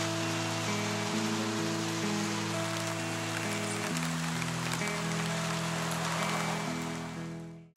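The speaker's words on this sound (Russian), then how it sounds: "А у нас тут первый дождь. Не сильный, правда." Light rain patters steadily on a wild Pacific beach in Costa Rica, a soft, even hiss that runs for several seconds alongside steady low tones before fading out at the end.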